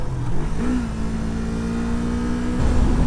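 A motorcycle engine drones steadily and close while riding up a winding road, its pitch rising and holding as it revs, with a louder surge near the end.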